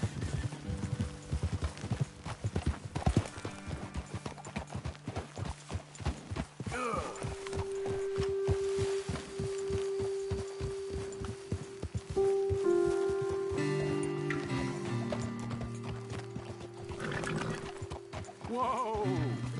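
Horse hooves clip-clop steadily in Red Dead Redemption 2, a repeated rhythmic clatter up close, with a low sustained hum and brief whinnies behind it.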